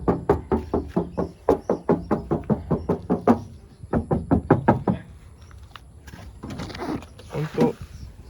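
Knuckles rap rapidly and repeatedly on the metal body panels of a 1999 Toyota Kijang LGX diesel, sharp close knocks in quick bursts, followed by softer taps while someone talks.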